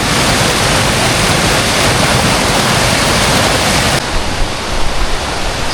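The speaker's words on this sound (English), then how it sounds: "A little waterfall." Loud, dense roar of a small waterfall close by in a canyon on the Cucamonga Peak trail, a constant hiss without pause, slightly softer toward the end.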